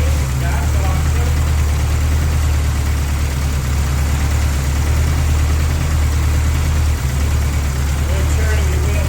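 A 1984 Toyota pickup engine, running after flood revival work, idles loud and close with a steady, even low rumble throughout.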